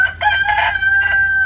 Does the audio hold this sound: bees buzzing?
no